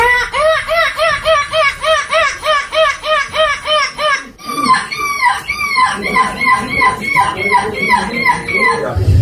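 A boy imitates a seagull with a run of rapid, rhythmic screeching calls at a European gull screeching championship, loud and close, then shifts into looser, rougher squawks with no other talk.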